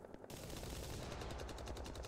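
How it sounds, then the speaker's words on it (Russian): Gunfire in the online shooter Stalker Online, a dense burst of rapid automatic shots starting abruptly and continuing as a loud, steady rattling barrage. "Стрельба идет, все тестируют."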